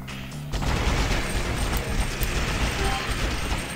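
A machine gunner firing in Alien Shooter TD, starting abruptly as a dense, steady stream of rapid automatic shots that stays loud and continuous throughout, with a few faint high electronic blips over it.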